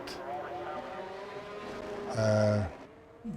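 Race car engines in an F1 racing video game drone steadily throughout, with a louder, sharper engine surge near the end before it drops away.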